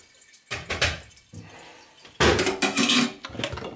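Fresh hot water runs and drips while a container is rinsed and washed in a kitchen sink, in two bursts of splashing and clinking, the second louder and longer.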